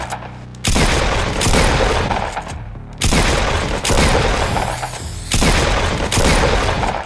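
Fortnite double pump shotgun blasts, several loud booming shots spaced about a second apart, each followed by a brief mechanical reload rattle, close and forceful with no talking.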